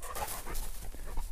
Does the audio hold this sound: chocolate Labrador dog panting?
yes